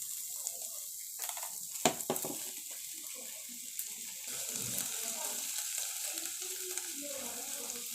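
Onions frying in a pan give a steady close sizzle with occasional stirring clatters, and the frying gets noisier and busier in the second half.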